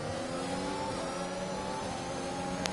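Formula 1 racing car engines in the video game F1 2021 at the Netherlands track, a steady high-pitched whine held at speed, fairly faint and continuous, with no talk over it.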